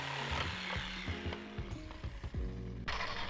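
Leftover wood for a frame in a VW Vanagon build being cut with a power saw, the motor whining near and loud and dipping in pitch repeatedly as the blade bites through the timber.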